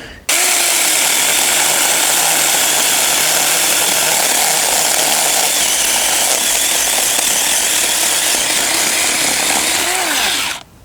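A cordless saw cuts a tree branch in a garden, running loudly and close for about ten seconds, a steady high whine with slight shifts in pitch as it cuts, then stops.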